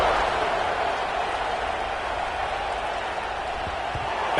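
A packed Florida State football stadium crowd roars at kickoff following an extra point, a dense, steady wall of cheering and applause heard from a distance throughout.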